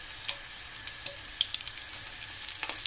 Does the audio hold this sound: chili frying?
yes